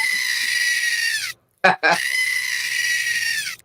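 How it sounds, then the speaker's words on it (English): Screaming goat toy lets out long, loud, harsh bleating screams, one drawn-out cry, a brief gap with a short squawk, then another sustained scream, close and shrill. "screaming goat."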